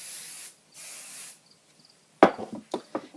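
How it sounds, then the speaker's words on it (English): Two short bursts of hairspray hiss onto freshly curled hair, followed by soft rustling and handling sounds. "I'm going to spray it with hairspray before I do anything else"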